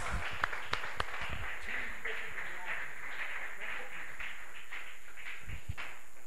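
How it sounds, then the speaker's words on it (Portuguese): Applause in a church congregation: dense broadband clapping spread across the room, steady and fairly distant, with a few sharper individual claps standing out near the start and end. "Melhor salva de palmas."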